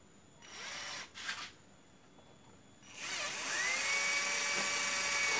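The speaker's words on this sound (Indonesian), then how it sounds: "kita pasang bor yang lebih besar lagi" A power drill whirs briefly twice, then, fitted with a larger drill bit, spins up into a long, loud, steady high-pitched whine that continues to the end.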